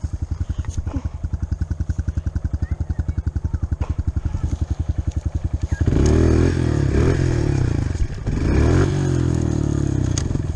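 Motorcycle engine idling or rolling in steady low pulses, then surging into a loud, roaring rev with heavy wind rush during a wheelie, close to the rider.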